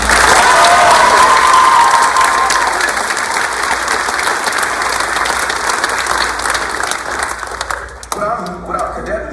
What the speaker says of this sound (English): Please join me in giving them a round of applause for a job well done.